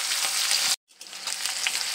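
Onions fry in hot oil with dried chillies and whole spices, giving a loud, dense sizzle that cuts out briefly to silence and then resumes just as strongly.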